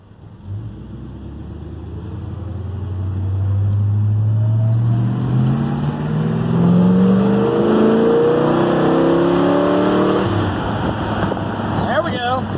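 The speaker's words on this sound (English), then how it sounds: "Got a little bit of RPMs there. Sounded pretty good. Pulls nice and strong." A 1965 Dodge Polara's engine revs up loud and close, climbing steadily to a sustained high roar before dropping back to a lower idle, with no talk over it.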